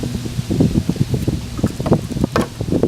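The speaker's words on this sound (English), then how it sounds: "So it's kind of windy." Gusty outdoor wind buffets the microphone in uneven rushes and rustles, fairly loud and close, with no talking.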